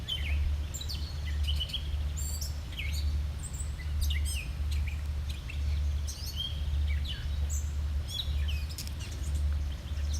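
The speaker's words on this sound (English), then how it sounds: "Can you hear the beautiful birds?" Birds chirp and tweet in quick, bright bursts over a constant low hum, some calls close and others farther off, on a winter nature walk.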